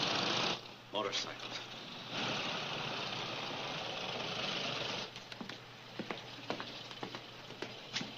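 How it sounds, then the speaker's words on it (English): Several motorcycles idle nearby with a steady engine rumble, then cut out, leaving scattered clicks and small sounds. "Motorcycles."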